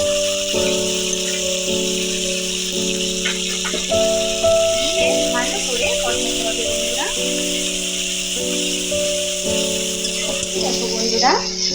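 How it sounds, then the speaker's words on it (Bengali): Ginger and garlic paste fries in oil with a soft continuous sizzle under a sustained tonal hum, with light stirring clatter throughout. "আমার আদা আর রসুন সুন্দরভাবে কষানো হয়ে গেছে"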